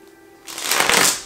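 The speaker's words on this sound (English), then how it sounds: "We're going to shuffle 2 more times." A deck of tarot cards is shuffled close up, a quick riffling rush of papery flicks that swells in about a second and then trails off.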